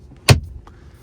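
A Tesla Model 3 Standard RWD glove box opens after a press, giving a single sharp click followed moments later by a faint softer thunk, close and alone in a quiet cabin.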